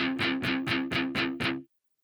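Seven rapid muted strums across guitar strings, dull scratchy chops in a steady beat with a slight sustained hum underneath, ending abruptly.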